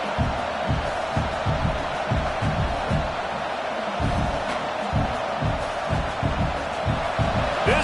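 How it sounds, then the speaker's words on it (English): A football stadium crowd at an LSU game roars with steady, loud noise throughout, rising in rhythmic surges, with a commentator's voice talking over the din. "This crowd bringing the energy and noise early."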